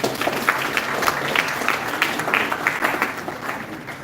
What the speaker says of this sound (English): a round of applause to all our faculty members